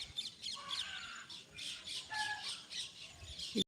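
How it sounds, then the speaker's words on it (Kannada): A flock of birds returning to their nests chirping and squawking in a busy, overlapping chorus of calls that continues throughout. "ಪಕ್ಷಿಗಳು ನೋಡಿ ಎಲ್ಲ ಗೂಡು ಸೇರ್ತಾ ಇದೆ ಎಷ್ಟು ಚಿಲಿಪಿಲಿ ಚಿಲಿಪಿಲಿ ಅಂತ ಇದೆ"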